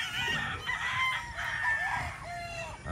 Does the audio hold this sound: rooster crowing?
yes